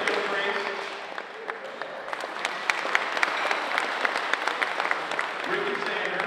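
An audience applauds steadily at a Hall of Honor induction ceremony for outstanding Bobcats, a dense wash of crowd clapping with some scattered louder claps, continuing throughout while a voice speaks over it.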